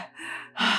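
A voice imitates short, shallow chest breathing: two quick, close, breathy inhales and exhales, airy and strained, with no talking.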